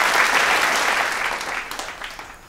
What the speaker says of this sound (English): So let's please give a round of applause to Jesse Prince.